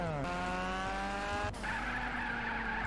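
Car from the CarX mod in GTA San Andreas droning under steady engine tones, with sharp tire skids cutting in near the start and again partway through, close and fairly loud with no talking.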